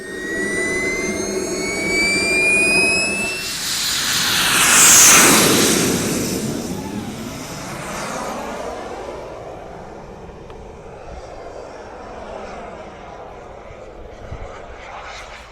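A small 64mm electric ducted fan model jet with flaps down whines loudly as it passes close overhead, its pitch sweeping down as it flies by and fades while it comes in to land, with a person talking over it.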